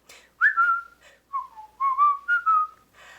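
A person whistles a melody in a string of clear, close, sliding phrases with short breaths between them, alone and with no talking.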